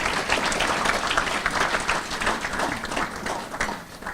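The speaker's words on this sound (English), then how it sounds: "I'd like to give her a round of applause for all the work she did." An audience at a sports hall of fame ceremony claps together in a sustained burst of applause, full and even, tapering slightly toward the end.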